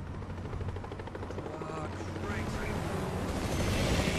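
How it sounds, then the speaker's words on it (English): A helicopter chases overhead in the Resident Evil 6 video game, a dense rotor roar with rumbling action effects that swells louder toward the end while someone talks over it. "Oh, and a helicopter chasing us."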